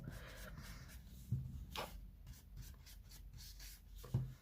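A makeup brush rubs ink softly around paper edges for a scrapbook page, producing quiet repeated scratchy strokes with a couple of light taps, faint and close.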